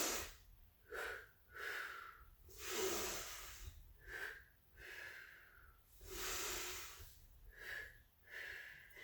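Slow, deliberate breaths during a Pilates abdominal exercise, with alternating airy inhales and hissing exhales in a steady rhythm of about eight cycles, close and soft, with no speech.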